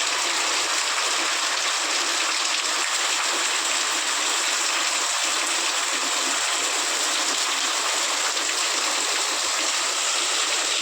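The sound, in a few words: rainwater flowing after heavy rain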